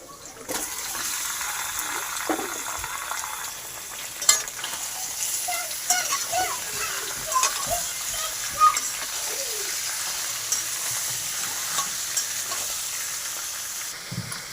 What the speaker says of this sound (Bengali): চিকেনটা ভালো করে ভেজে নিয়েছি